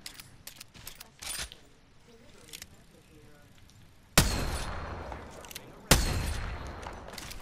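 Gunfire from a paintball-like weapon in Apex Legends, with two sharp loud shots hitting in the latter half, each trailing a burst of crackling noise, after quieter game sounds and scattered clicks.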